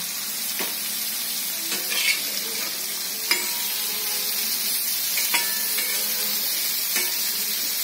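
Masala-coated bitter gourd slices fry in a hot pan with a steady, loud sizzle, broken by a few sharp pops and clinks.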